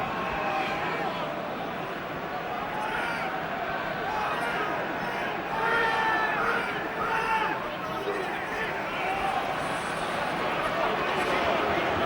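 Stadium crowd at an Ireland v England Six Nations rugby match in 2013, a steady dense roar of thousands of voices that swells slightly midway and stays loud throughout.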